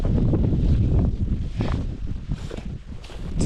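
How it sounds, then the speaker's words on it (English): Strong wind buffets the microphone in loud, rumbling gusts that rise and fade, with a faint rustle behind. "it's very windy"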